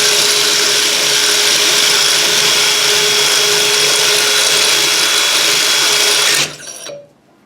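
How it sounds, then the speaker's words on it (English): A power drill turns a 16mm bit to ream the inside of an airsoft charging tube, a loud steady high-pitched whirring grind that holds for about six seconds before spinning down and stopping. "I'm going to use the same 16mm drill bit to ream the inside"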